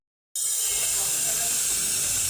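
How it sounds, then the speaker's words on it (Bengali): A brazing torch hisses against the compressor service line of a Walton non-frost fridge. The hiss starts abruptly and stays steady and close for the rest of the moment. "এখন আমরা জ্বালাই করছি কম্প্রেসরের সার্ভিস লাইন, যেটা দিয়ে গ্যাস চার্জ বা ভরার কাজ করা হয়।"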